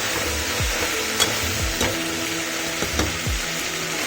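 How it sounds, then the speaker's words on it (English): Mutton sizzles steadily in a hot pan for a Karnataka-style curry, with a spatula scraping and stirring in several distinct strokes over the constant frying hiss. "So the mutton is frying very nicely."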